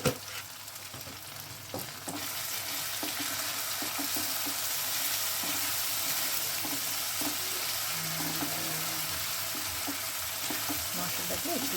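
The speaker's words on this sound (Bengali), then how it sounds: "মশলাটাকে একটুখানি কষিয়ে নেবো" Spices with salt and turmeric fry in a pan for chicken tehari, giving a steady, close sizzle with occasional clinks and stirring scrapes throughout.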